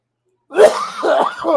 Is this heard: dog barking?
no